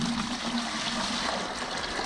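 Liquid poured off a settled gold recovery mixture made from scrap computer parts, a steady close trickling and splashing stream lasting throughout with no talk.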